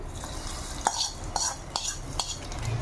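A spoon works through raw mango chutney in a metal vessel, producing a wet churning sound with four or five sharp clinks of spoon against pot over a low background hiss.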